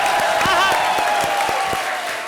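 A studio audience at a comedy show claps in a burst of applause, with crowd noise and a steady tone running underneath. The clapping fades slightly toward the end.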